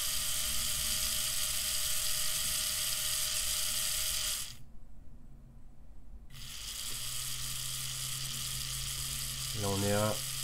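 A noisy geared motor runs steadily with a loud whirring drone, cuts out briefly, then starts again, ending with a rising ratcheting whine.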